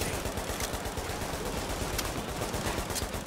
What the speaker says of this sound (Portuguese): Tô atirando.